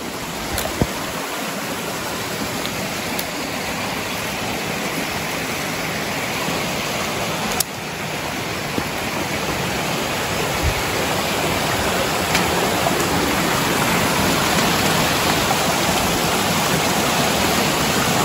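A river flows steadily past a forest trail in a continuous broadband rush of moving water, near and fairly loud, with no voices.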